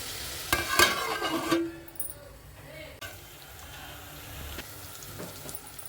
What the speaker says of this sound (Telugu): ఒకసారి అయితే బాగా కలిపేస్తున్నానండి టమాటా కూడా మగ్గాలి కదండి ఆయిల్లోను